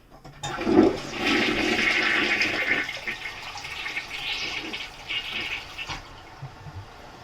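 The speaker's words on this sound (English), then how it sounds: "I'm going to flush it." A household bathroom toilet flushes once with a loud rush of swirling water that fades into a softer trickle as the tank refills, with no voices.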